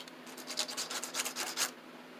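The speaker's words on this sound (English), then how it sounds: "We're going to take the sandpaper and just" Sandpaper rubbed briskly over a solder point on a fuse block in a Sony TC-KA1esa cassette deck, giving quick repeated rasping strokes, close and moderately loud, with no talking.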